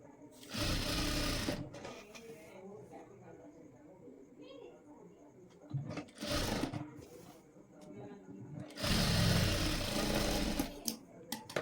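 A sewing machine stitches a blouse neck seam in three bursts of rapid, whirring clatter, close by, while a voice talks quietly between runs.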